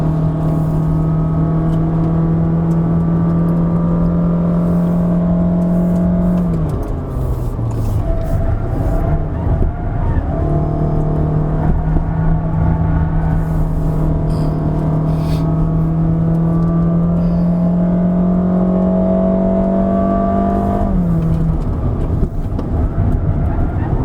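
A 2021 Honda City RS climbs the road up to Genting Highlands under hard acceleration, its loud, steady engine drone holding one pitch, dipping briefly as revs drop, then rising again and sustained close inside the cabin.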